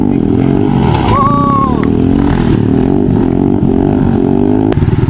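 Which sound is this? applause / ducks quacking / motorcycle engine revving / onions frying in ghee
motorcycle engine revving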